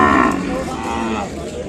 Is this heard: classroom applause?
no